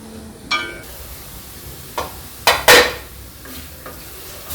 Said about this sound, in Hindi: अब इसको हम अच्छी तरीके से भूजेंगे जब तक वो हमारे तेल बाहर ना निकल आए मसाले से